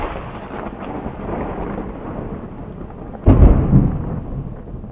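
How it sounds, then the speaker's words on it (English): Thunder rumbles as a low, continuous roll, then a sharper, louder crack and boom near the end, with a rainy, windy wash underneath. "The sound of thunder appeals to our sense"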